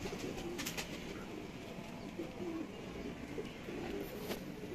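Pigeons of a long-boned fancy breed coo softly in a loft, low murmuring calls repeating over a steady background hum with no talking.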